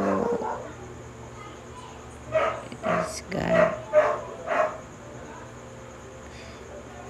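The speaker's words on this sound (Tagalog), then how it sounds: "medyo nagbabark yung aso sa kabila" A neighbour's dog barks in a quick series of about five barks somewhere nearby, clearly audible behind a person talking and breaking up an otherwise steady background hum.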